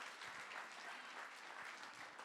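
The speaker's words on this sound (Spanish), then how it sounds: "Dale un aplauso si puede a Dios" A church congregation applauds steadily, a dense, even wash of clapping hands that holds at a moderate level from start to finish with no voices standing out.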